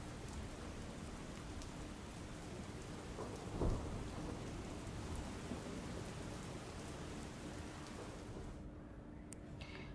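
Steady heavy monsoon rain pours throughout in South Gujarat, with a single sharp thunder crack near the middle standing out above the constant downpour.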